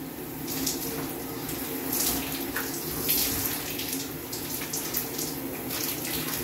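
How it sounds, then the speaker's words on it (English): Shower water runs continuously in a steady, close hiss of spray, with faint splashes and no talking. "And that's how you take a shower."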